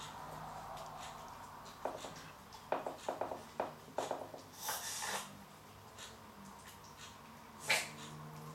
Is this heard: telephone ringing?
no